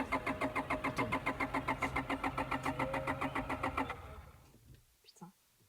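A car engine cranks in a rapid, even rhythm for about four seconds, then stops without catching, leaving quiet movement and a brief voice.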